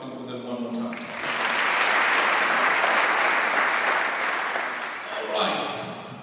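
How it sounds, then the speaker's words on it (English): An audience claps at length, the applause swelling to a loud, dense peak and then easing off, with a little speech briefly audible at the start and end. "let's return the favor by clapping for them one more time"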